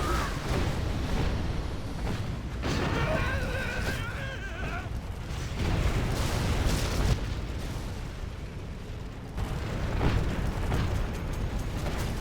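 Artillery blasts in the video game C&C Generals, with dense booming explosions and rumbling impacts rolling one after another, loud and continuous across a busy battle soundscape.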